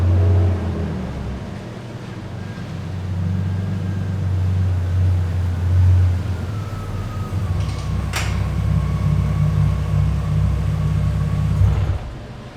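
A BMW six-cylinder car rolling into a garage, its engine a loud, steady low rumble close by that holds for about twelve seconds before cutting off.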